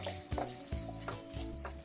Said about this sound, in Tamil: இந்த தேங்காவை கொஞ்சம் வறுக்கிறோம்